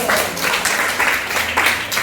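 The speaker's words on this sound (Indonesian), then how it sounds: "Tepuk tangan dulu." Audience applause from a classroom or school gathering, a steady, dense burst of many hands clapping, loud and close, lasting the whole moment.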